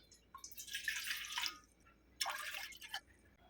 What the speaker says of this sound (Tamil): 2 டம்ளர் தண்ணி சேர்த்துக்கிறேன்.